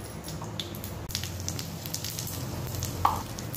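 Mustard seeds and a pinch of asafoetida crackling in hot oil for a tempering, a quiet steady sizzle with small sporadic pops close by.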